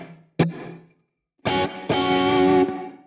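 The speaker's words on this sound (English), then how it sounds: "this is the short reverb" An electric guitar through a Quad Cortex with a short reverb effect, a single plucked note followed by silence, then sustained strummed chords ringing with a brief ambient tail.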